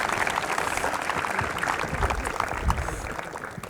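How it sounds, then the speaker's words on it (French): Audience applause for the Asclépios medical YouTube channel at a live history talk, a moderate, busy clapping that carries steadily through the short stretch with some low rumble underneath. "on peut l'applaudir."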